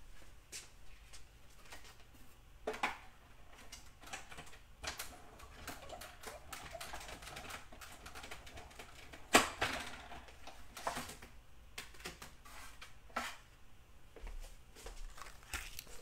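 Paper being cut for a 12 x 12 scrapbook page, with a steady run of sharp snips and crisp clicks close by, one louder snap midway, over a quiet room with no talking.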